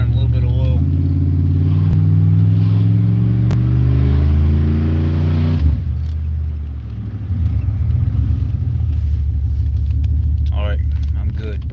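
A 2001 Dodge Ram truck engine runs while driving, a loud steady low rumble that shifts and settles partway through, with the engine note continuing underneath to the end.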